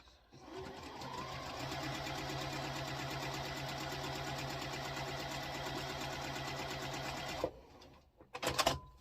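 A sewing machine runs in one long, steady burst while stitching a quilt block seam, fairly quiet and close, then stops and is followed by a few brief clicks and rustles.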